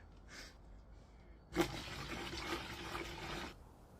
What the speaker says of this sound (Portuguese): A água está escorrendo.